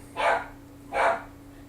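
Two sharp dog barks about a second apart from indoors, moderately close, over a faint steady background hum.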